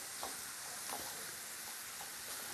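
Seasoning is stirred into food in a pan under a steady, dense sizzle, with a few soft utensil scrapes standing out faintly; no one talks.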